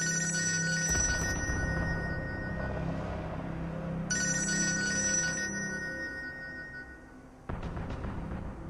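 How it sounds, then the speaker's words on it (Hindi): A telephone ringtone repeats in bursts of high electronic chiming, sounding twice with a gap between, over background music and no talk, loud and close. "आप फोन नहीं उठाएंगे?"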